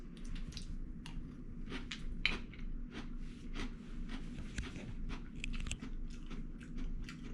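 Crunchy Creeper Crunch cereal in milk being eaten up close, with repeated irregular crisp crunches and chewing bites, soft squishy mouth sounds in between and no talking.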